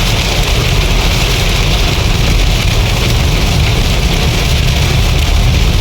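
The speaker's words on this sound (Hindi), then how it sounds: "बड़ी शदीद बारिश हो रही है फैसलाबाद में।" Heavy rain pours down during a storm in Faisalabad, a loud, unbroken roar of drumming water that stays dense and even throughout, with no voices.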